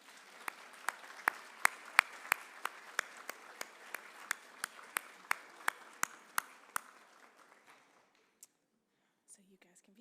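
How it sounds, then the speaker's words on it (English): An audience at a nursing students' pinning ceremony claps for the support team, a quiet, sparse run of distinct sharp claps with faint murmuring that thins out and stops after about seven seconds. "please give them a round of applause"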